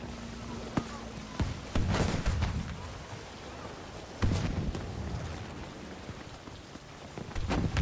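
Rain in the video game Battlefield V, a soft, steady hiss of falling rain broken by a few loud thuds and bursts, with talking over it.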